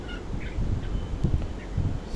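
Chickens on a poultry farm cluck and murmur in a low, busy chorus under a steady room hum, with a few brief calls standing out close by.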